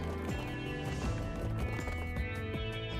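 Horses pull a wagon in the Old West setting of the Transport Fever 2 video game, with steady rhythmic clip-clop hoofbeats over a constant busy background, no talking.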